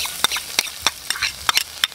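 Garlic sautéing in a pan for beef rib tinola: a steady close sizzle broken by about half a dozen sharp scraping stirs of a utensil against the pan, with no talking.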